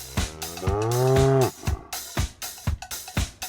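A cow lets out one loud, drawn-out moo that rises and falls over about a second, set among sharp rhythmic thumps that keep going after the call ends.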